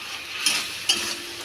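A spoon scrapes twice across a pan of lentils seasoned with turmeric and salt, two brief close strokes over a faint, steady background hiss.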